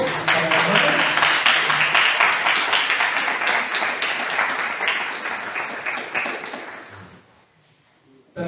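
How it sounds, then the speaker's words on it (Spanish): A church congregation breaks into sustained applause for a pastor being introduced, dense clapping ringing out loudly for several seconds before fading quickly into near silence. "Un aplauso, por favor."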